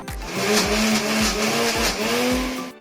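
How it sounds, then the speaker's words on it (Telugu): Mixer grinder whirring briefly as it blends mint, coconut and tomato chutney, with a loud motor drone and rhythmic low thumps as the jar pulses and the blades churn. "ఇప్పుడు మిక్సీ పట్టుకుందాం ఒక్క సెకండ్ అలా తిప్పేద్దాం"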